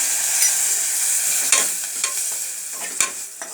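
Curry leaves, chopped onion and mustard seeds frying in a pan for rasam, with a steady hiss and sizzle and a few sharp pops and crackles of seeds spitting, close and fairly loud, with no talking.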